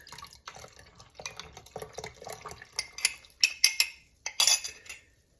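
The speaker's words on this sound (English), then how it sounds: "you want to stir this up until it's all nicely incorporated" Broccoli cheddar cheese soup is stirred in a pot, giving soft liquid swishes followed by a quickening run of spoon clinks and scrapes against the metal, close and fairly quiet with no speech.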